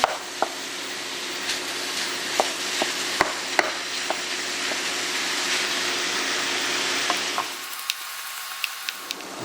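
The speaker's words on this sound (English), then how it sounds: "The sooner you break this up, the better it will be at cooking. We're not going to brown it, we're just going to cook this through." Ground beef sizzles steadily in a hot pan as it is broken up and cooked through for an empanada filling, with sharp scraping and tapping clicks from a utensil throughout; the sizzle drops away near the end, leaving a few scattered taps.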